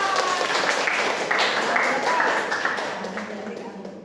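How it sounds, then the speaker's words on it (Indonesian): A classroom of students claps for a classmate during a fiqh lesson, the applause fairly close and scattered at first, then tapering off, with talk mixed in. "Tepuk tangan dong."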